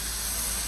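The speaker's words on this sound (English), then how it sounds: "And listen to the sizzle." A smash burger of chuck sizzles on a grill at a family picnic, giving a steady, close hiss that holds evenly throughout the brief moment with no talking.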